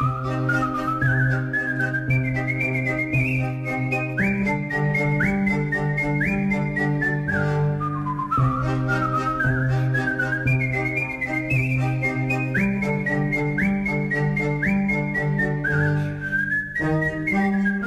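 Mozart's Turkish March is whistled clearly and steadily over a sustained string quartet accompaniment, with quick stepping runs repeating throughout.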